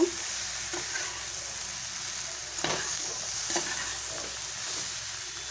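Okra with cumin powder sizzling in a frying pan while a spatula stirs it, a soft, even hiss punctuated by a few distinct scraping strokes, close and with no talking.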